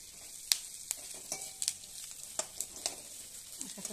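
Chivda mix with garlic, chilli and ajwain dry-roasts in a pan with a soft, steady sizzle, punctuated by scattered sharp clinks and scrapes of stirring, close and moderately quiet.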